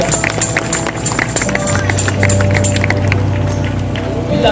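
A church congregation claps for Jesus in a dense, steady patter of many hands, with music playing underneath and a voice speaking over it.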